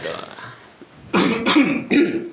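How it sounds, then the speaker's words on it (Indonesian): A few close, harsh bursts, like coughing or throat clearing, follow a stretch of quieter voice. "batuk dulu aja"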